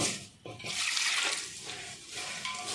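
Water is poured into a pan of sugar and jaggery to make syrup for boondi laddu, a short splashing trickle that swells, pauses, then resumes briefly.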